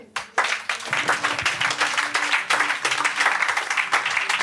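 A church congregation bursts into loud, sustained applause during a pastor's sermon, dense overlapping clapping that rises in waves and holds steady for several seconds.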